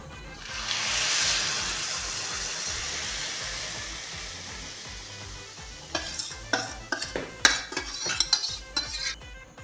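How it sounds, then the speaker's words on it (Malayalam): Curd poured into a pan of Kerala-style pachadi base on a switched-off stove, then stirred: a soft hiss fades over the first seconds, followed by a run of sharp spoon scrapes and clinks against the pan. "ഈ തൈര് ഇതിലേക്ക് ഒഴിച്ചു കൊടുക്കാം."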